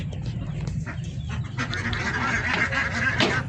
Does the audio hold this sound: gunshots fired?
no